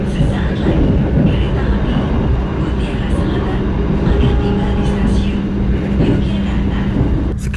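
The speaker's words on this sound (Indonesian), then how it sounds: "kereta api Mutiara Selatan merapat di stasiun Yogyakarta" Mutiara Selatan passenger train pulling into Yogyakarta station, a steady loud low rumble and rolling rail noise with faint squeals, continuous throughout with some background voices.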